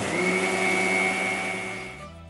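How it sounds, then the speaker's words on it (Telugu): An electric kitchen mixer grinder blends grated coconut with water into a paste. A loud, steady motor whine fills the first part, then the pitch drops as the motor winds down and stops. "తీసుకుని వెళ్ళి మిక్సీలో పేస్ట్ చేశాను."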